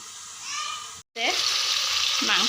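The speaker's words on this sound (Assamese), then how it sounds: "মাংস ভাজি আছোঁ" Meat sizzles and crackles steadily in a pan, a broad hiss that is briefly cut and then returns louder, with faint stirring scrapes.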